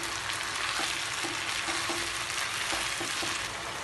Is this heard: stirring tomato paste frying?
yes